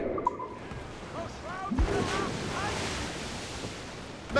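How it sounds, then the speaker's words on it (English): North Atlantic ocean waves wash and surge steadily in the Assassin's Creed Rogue sailing game, a continuous surf rush mixed with wind noise and creaking ship sounds, with brief tonal game effects over it. "I like the higher waves of the North Atlantic."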